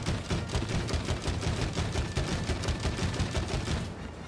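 Shooting in the It Takes Two video game, a rapid, evenly spaced stream of loud shots firing continuously and close up with no pause.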